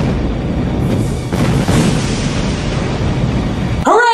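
A ship is detonated in a sudden loud boom that spreads into a long, rumbling roar of blast and debris, ending in a sharp crackling burst.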